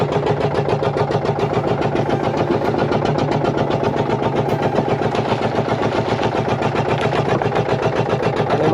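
A fishing boat's engine runs at sea on a deep-sea fishing trip off the Konkan coast, a loud, close, steady rapid chugging throb that holds an even rhythm throughout with no voices.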